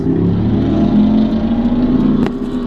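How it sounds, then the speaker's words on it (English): A loud Chevy car rumbles close by with a steady low engine drone and slight revving, holding for a couple of seconds with a brief sharp knock near the end. "Always excitement with that freaking Chevy all loud."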